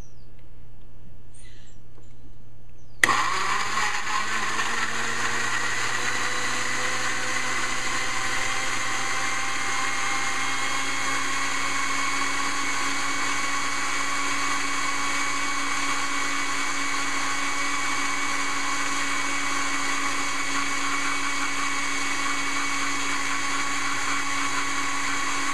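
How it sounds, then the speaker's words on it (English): An electric blender set to grind whirs steadily for over twenty seconds, purifying fresh garden tomatoes with salt into juice; a sharp start is followed by a constant loud motor drone, with no talking. "now I'm going to start the blending process. So I put my cover on and I'm going to put it at grind."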